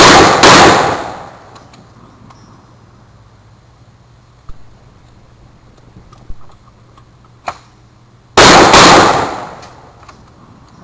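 Shotgun blasts at a shooting stage: one loud close report at the start, a few faint clicks and knocks in between, then a second loud blast near the end.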